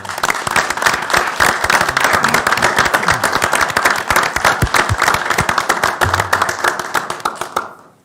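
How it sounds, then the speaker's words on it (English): Audience applause for a retiring staff member at a school board meeting: dense, steady clapping from many hands sustained for about eight seconds, then cutting off abruptly at the end. "If we can all give him a big round of applause"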